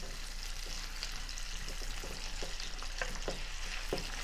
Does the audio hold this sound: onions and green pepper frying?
yes